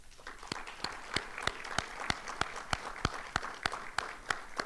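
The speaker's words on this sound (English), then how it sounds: "They deserve a round of applause." Sparse applause at an infrastructure announcement: a few people clap in a rhythmic, regular pattern, individual sharp claps standing out at a moderate level rather than a dense crowd roar.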